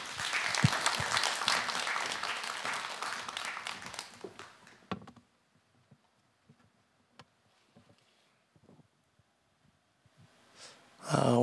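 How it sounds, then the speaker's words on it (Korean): A church congregation at an early-morning prayer service claps warmly to welcome the preacher, dense applause for about four seconds before fading to near silence with a few scattered taps. "우리 전도사님 축복하는 마음으로 박수로 맞이하도록 하겠습니다."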